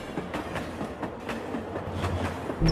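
Train running on the rails, a steady rumbling roll with faint rhythmic clatter from the wheels throughout, ending in a louder low thump.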